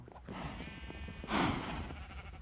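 Sheep bleating in the Minecraft video game, a short wavering call that stands out over a steady game background, followed by a louder burst of sound.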